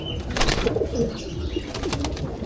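Pigeons in a loft coo in overlapping low, rolling calls amid shuffling and a busy, steady background of bird noise.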